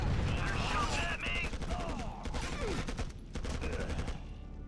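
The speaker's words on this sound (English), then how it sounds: "You're shooting at me!" Rapid bursts of automatic gunfire and scattered shots from the real-time strategy game Act of War: Direct Action, during a refinery defence battle, crackling continuously over a busy mix of game effects.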